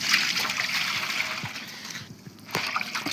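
Water is poured into a kadai while mixing a homemade remedy for pigeons. It makes a close, steady splashing and trickling that dips briefly before a fresh splash.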